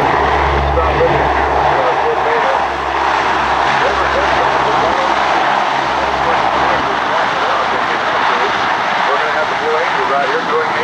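Propeller engines of a C-130 transport aircraft at an airshow drone loudly and steadily throughout, a deep rumbling hum with a constant broadband roar, while voices talk over it.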